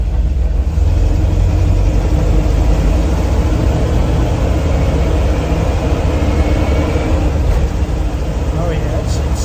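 A 1973 K5 truck drives along with a loud, steady engine and road roar filling the whole stretch, the low rumble shifting slightly near the end as gears change.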